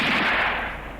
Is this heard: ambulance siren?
no